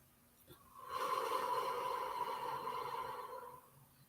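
Slow, deep breath drawn steadily for about three seconds, a soft airy rush swelling and then fading, close and alone with no talk.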